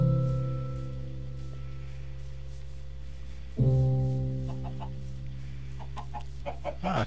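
Chickens cluck close by in a game world, a low droning hen call fading then sharply renewed midway, with scattered softer clucks and small clicks toward the end.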